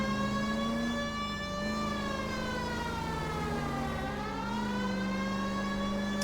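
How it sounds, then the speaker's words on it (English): A wailing police car siren in the video game L.A. Noire rises and falls slowly in pitch, loud and continuous throughout with no talking. "you can actually use the siren for no reason like this"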